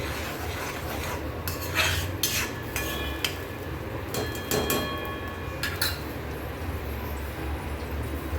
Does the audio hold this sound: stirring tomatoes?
yes